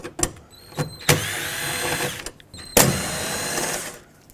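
A power tool drives out 7mm bolts from the inner door panel of a 1997-2003 Ford F-150, with several short bursts of close, loud whirring separated by brief pauses.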